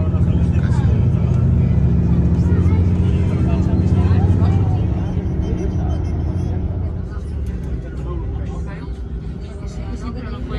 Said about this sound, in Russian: И проползают автобусы, дорога узкая.